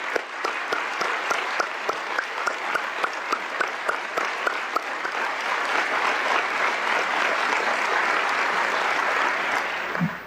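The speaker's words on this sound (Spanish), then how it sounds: "Pido un aplauso para todos los que se hicieron maestros, que es hacerse creadores." Loud, sustained applause from a large assembly at the closing of a national assembly session, honouring teachers; dense clapping with some distinct close claps early on, continuing steadily before fading out at the end.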